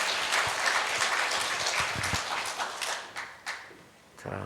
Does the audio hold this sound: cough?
no